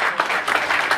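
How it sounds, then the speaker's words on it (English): An audience gives a round of applause, a steady wash of many hands clapping with slight swells, heard alone for about a second. "All right, round of applause."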